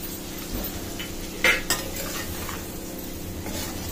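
Raw jackfruit biryani being stirred in a cooking pot, a spoon scraping and clinking against the metal over a soft steady sizzle, with a couple of sharper knocks in the middle.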